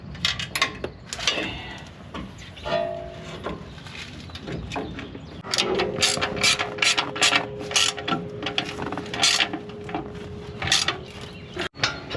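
Ratchet clicks on the lower control arm of a 2.5 Gen Toyota Tundra during a suspension install, in short bursts with a steadier ratcheting run from about 5.5 seconds, over garage background clatter.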